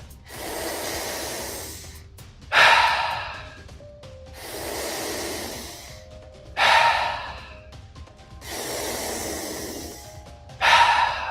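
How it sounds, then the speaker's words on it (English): Steady rounds of deep breathwork breathing in a training session for mountain athletes. Long airy inhales each end in a sudden strong exhale, three even cycles heard close and clear with no speech. "Last 5 breaths, make these the 5 deepest ones yet."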